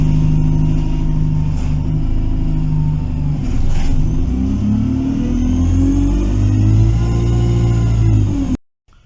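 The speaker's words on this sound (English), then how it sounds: "I'll get onto the 50 bus to Newport" The 50 bus to Newport runs with a loud, steady engine drone heard from inside, rising and falling gently in pitch for several seconds before cutting off abruptly.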